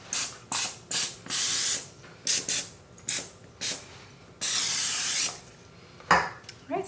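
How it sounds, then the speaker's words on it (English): Cooking spray hisses onto the sides of a parchment-lined 9 by 13 inch baking pan for matcha mochi brownies: about a dozen short, close bursts in an uneven rhythm, with two longer sprays, and no talking. "I'm gonna spray the sides as well."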